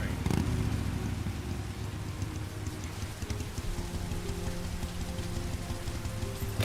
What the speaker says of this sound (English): Now I know why they're telling us how much it's raining.